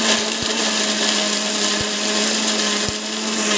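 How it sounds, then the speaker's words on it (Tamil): Mixer grinder blending mango chutney, a loud, steady motor whir with a constant hum and a few rhythmic thumps from the jar, with no voices. "மிக்சியில் வந்து ஃபுல்லாகவே போட்டுக்கணும்"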